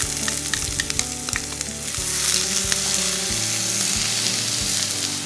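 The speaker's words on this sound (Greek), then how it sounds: "Στο ίδιο τηγάνι προσθέτουμε λίγο ακόμα λάδι και σοτάρουμε τα κρεμμύδια." Onions sautéing in oil in a frying pan for a quiche Lorraine, a loud, steady close sizzle with occasional stirring scrapes and no talking.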